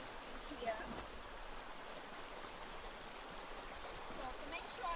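A stream flows during rain at a motorcycle campsite, a soft, steady watery rush with faint patter throughout.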